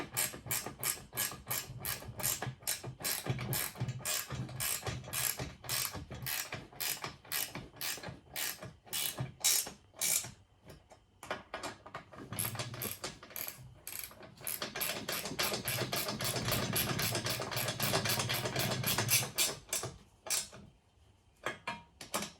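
Fittings on a Rhino Rack Pioneer Backbone roof rack are tightened with a ratchet, producing long runs of rapid close clicking in steady bursts, with short pauses between them and no speech.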